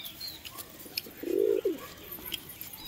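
A domestic pigeon gives a single short, clear coo against a steady background hiss.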